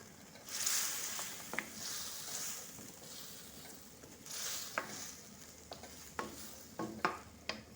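Goat bones and offal cook in a curry pan with a soft sizzle, and scrapes and clacks from stirring come through clearly toward the end, with no talking.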